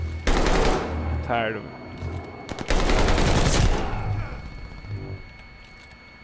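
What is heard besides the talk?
pistol gunfire in a video game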